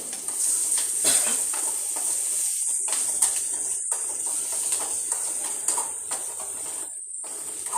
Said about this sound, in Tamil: இஞ்சி, பச்சை மிளகாய் ஆட் பண்ணி லைட்டாக ஃப்ரை பண்ணி எடுத்துக்கலாம்.